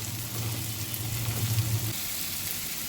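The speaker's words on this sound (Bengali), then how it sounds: "টমেটো কুচি একসঙ্গে দিয়ে নেড়ে চেড়ে নিব" Chopped carrot, pointed gourd and tomato are stirred into lentils in a hot cooking pan, giving a soft, steady sizzle with a low scraping hum for a couple of seconds, with no talking.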